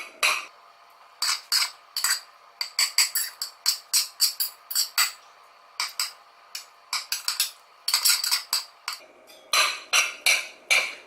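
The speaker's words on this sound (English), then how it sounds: "stir it all together" Hot macaroni and melted butter stirred together, a spoon clinking and scraping against the bowl in quick, irregular bursts of close, bright taps with no voices.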